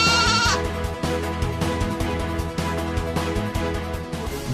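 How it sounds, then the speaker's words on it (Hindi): Goats bleat in a primary school yard near the kitchen, one clear bleat at the start over a steady bed of loud music-like tones that runs throughout. "विद्यालय के रसोई घर के पास बकरी"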